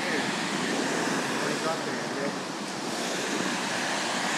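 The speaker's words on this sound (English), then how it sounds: "A waterfall." A large waterfall pours steadily in a broad, unbroken rushing roar that stays loud and even throughout, with no talk over it.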